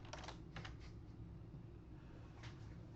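Light, sparse taps on a computer keyboard while updating FSharp.Compiler.Service code, a few quick clusters of keystrokes over a steady low room hum, fairly faint.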